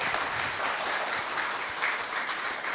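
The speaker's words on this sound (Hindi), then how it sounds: "एक बार जोरदार तालियां" Audience at a skill-development project launch ceremony giving a hearty round of applause, a steady, dense, fairly loud roar of many hands clapping continuously throughout, with no talking over it.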